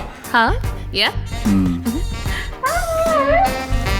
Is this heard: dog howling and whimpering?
yes